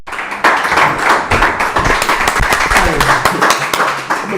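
Rhythmic hand clapping from a congregation during prayer at a Sabbath service, steady sharp claps close by with voices talking and calling out underneath throughout.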